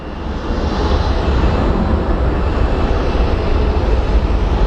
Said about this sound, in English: We have what seems to be another plane coming in. So it's an American Airlines A321 coming from Philadelphia.